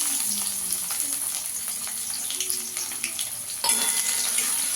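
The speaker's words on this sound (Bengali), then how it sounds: "একটু আদা রসুনটাকে হালকা করে ভেজে নেব" Chopped ginger and garlic fry in three spoons of white oil in a wok, giving a steady close crackling sizzle with occasional scraping and a slight rise in intensity near the end, without talking.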